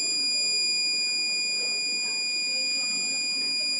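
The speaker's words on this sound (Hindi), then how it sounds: "तो देखिए इसमें भी बजर बजेगा, आप देख सकते हैं बजर बज रहा है।" A multimeter in continuity mode buzzing steadily while testing a coil: a continuous high-pitched electronic tone held without a break, loud and close.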